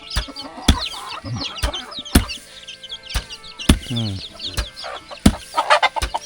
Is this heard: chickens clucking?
yes